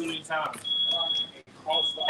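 A smoke alarm gives a steady high-pitched electronic tone that runs for about a second, breaks briefly and starts again, with people talking over and around it.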